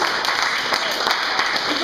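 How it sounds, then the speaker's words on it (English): A room of people at a church gathering applauds someone who led the setup team, a steady, loud wash of clapping that stays dense and even, with voices mixed into the noise. "Let's just give her a round of applause"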